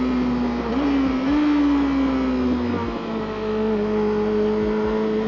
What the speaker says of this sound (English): you've got to wait for those revs to seriously build up